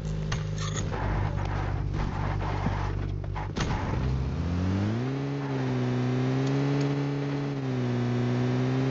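A vehicle engine in PUBG Mobile rumbles under driving noise, then settles into a steady rising and falling engine drone with a smooth pitch swell, close and continuous with no talk.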